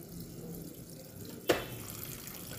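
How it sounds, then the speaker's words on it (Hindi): Water runs quietly into a Haier semi-automatic washing machine tub in a steady, faint trickle, with a brief louder gush about halfway through. "ये देखिए, यहाँ पानी गिरना शुरू हो गया।"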